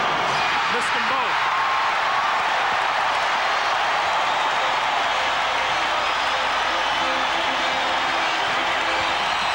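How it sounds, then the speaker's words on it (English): Arena crowd at a 1995 NBA playoff Game 5, Rockets at Jazz, a dense steady roar of cheering fans sustained throughout, with a commentator's voice heard over it. "the crowd is really into it"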